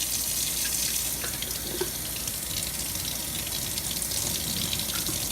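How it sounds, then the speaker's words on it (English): Tap water runs steadily into a glass sprouting jar holding broccoli seeds, a close, constant splashing rush with small clinks and gurgles as the jar is rinsed at a sink. "And we're going to rinse it."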